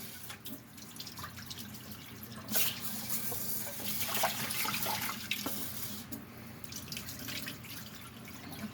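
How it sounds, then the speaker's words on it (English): Running tap water splashes into a sink with soft sloshing and dripping as rice is stirred and rinsed, fairly quiet and continuous. "we are going to wash our rice 3 times"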